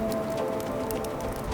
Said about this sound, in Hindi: बारिश स्टार्ट हो गई।